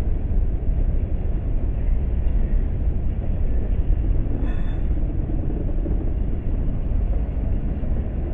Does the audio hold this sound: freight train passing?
yes